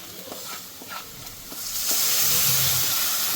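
Garlic, green chilli and ginger frying in a pan, with a few soft stirring taps before a loud, dense sizzle swells up and holds steady close by.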